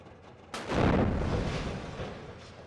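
A house in Jalawla blown up by ISIS erupts in a single deep explosion that bursts in suddenly and rolls on as a long, fading rumble, heard from a distance with no talking.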